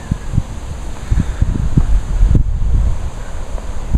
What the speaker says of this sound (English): Now it's a little windy.